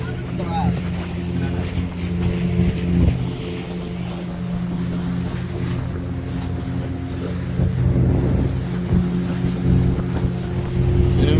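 A fishing boat engine drones steadily at sea, with wind and water noise around it and a voice speaking at times.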